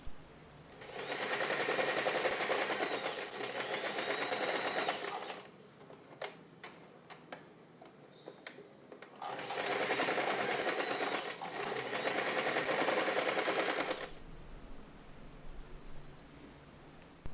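A sewing machine stitches satin fabric along marked lines for a bow, running in two steady bursts of rapid, even mechanical whirring separated by a quiet pause with a few small clicks.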